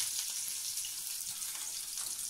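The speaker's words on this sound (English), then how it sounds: "So the sausages are browning nicely." Sausages browning in a frying pan give off a steady, close, hissing sizzle that continues evenly without talk.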